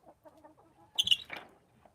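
Chickens in a backyard coop cluck softly in low, scattered murmurs, then break into a brief, louder squawking burst midway before settling back to quiet clucks.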